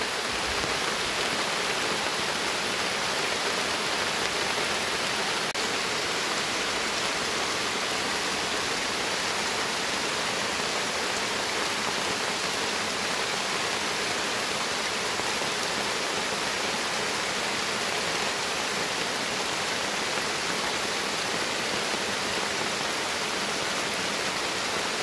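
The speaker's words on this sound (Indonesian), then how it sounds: "Nah, itu hujannya makin lebat." Heavy rain pours down steadily in a forest, a dense, constant hiss of downpour on leaves and ground lasting throughout, loud and unbroken with no voices.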